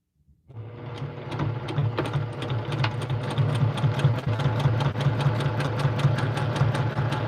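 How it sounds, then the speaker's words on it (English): A Brother PQ1500SL domestic sewing machine stitches steadily in normal sewing mode, its continuous motor whir and rapid needle clatter running close and loud without a break after a short quiet start. "And I can go ahead and just sew normal again."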